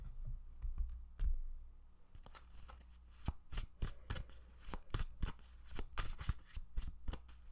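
A deck of cards is shuffled during a card reading, starting with soft handling and rustling, then moving into a rapid run of crisp, close riffling flicks and taps.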